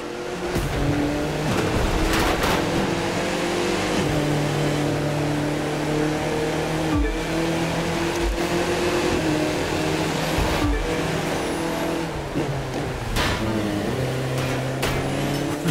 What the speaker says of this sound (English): That car's really moving.